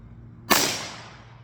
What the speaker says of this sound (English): I really love shooting 22 Magnum